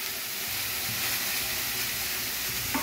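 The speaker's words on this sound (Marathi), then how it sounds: "आता त्याच्यामध्ये ही फरसबी आणि मटकी एकत्र करून घेतलेली मी टाकत आहे।" Green beans and moth beans sizzle in a hot pan over low flame, a steady loud hiss of frying that goes on alone without pause.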